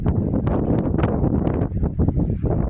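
Steady wind buffeting and roaring across the microphone outdoors on rural land, with broadband rumble and faint rustling.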